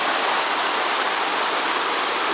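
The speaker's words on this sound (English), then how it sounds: "Big waterfall going over the edge there." A rainforest waterfall pours over a rock edge on a walking circuit, a loud, steady broadband rush of falling water that stays constant throughout with no voices.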